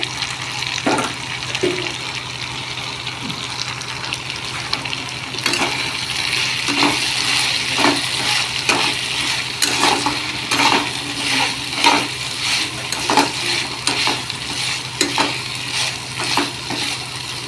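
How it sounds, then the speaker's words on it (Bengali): Soaked, squeezed soybeans fry and get stirred in a pan, a steady sizzle broken by repeated rhythmic scraping strokes of a spatula, close and fairly loud throughout. "ভালো করে কষে নেব"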